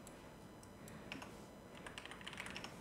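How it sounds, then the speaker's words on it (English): Quiet, steady typing on a computer keyboard, soft rapid key clicks running under a low background hiss with a few slightly louder taps toward the end. "Just going to type that."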